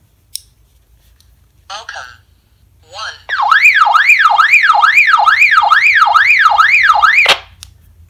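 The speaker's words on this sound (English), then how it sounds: "That turns on in alarm mode, flashing the light and actually transmitting that signal through the radio." A defective Retevis RB27V MURS radio in alarm mode sends out a loud, steady warbling siren tone for about four seconds, preceded by a few short beeps and chirps and ending abruptly.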